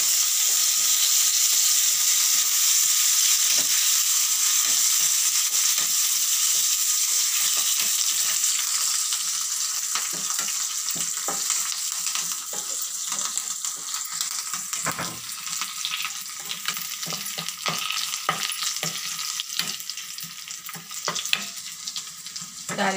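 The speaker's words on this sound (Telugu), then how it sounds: "ఇప్పుడు కరివేపాకు కూడా వేసేసుకుందాం." Curry leaves spatter and sizzle in hot tempering oil while a lentil and tomato curry is being cooked, a loud, continuous frying hiss with crackling bursts throughout and no talking.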